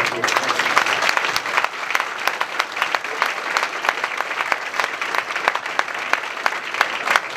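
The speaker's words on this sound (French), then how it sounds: "Je crois qu'on peut l'applaudir." Dense, loud applause fills a hall for an association during an inauguration speech at a Primark store opening, a continuous crackle of many hands clapping without pause.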